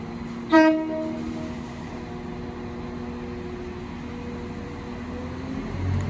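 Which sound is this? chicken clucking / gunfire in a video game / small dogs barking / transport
transport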